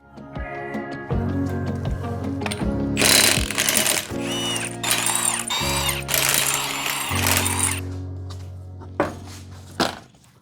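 An impact wrench or similar power tool buzzes in several loud, sustained bursts of a few seconds each while removing a wheel from a raised 3rd-generation Toyota 4Runner on a jack stand, with brief clanks between runs.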